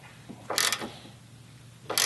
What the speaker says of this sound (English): We are using our T50 Torx wrench.